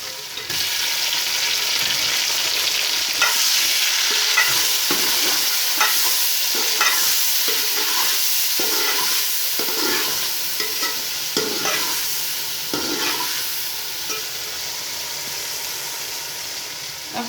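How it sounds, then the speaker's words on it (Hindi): Tomatoes fry in oil with garlic-ginger paste for chicken biryani, a steady loud sizzle with repeated scraping stirs of a spoon against the pan throughout. "दो मिनट हम लहसुन अदरक के पेस्ट को भूना है। अब इसमें ऐड करते हैं"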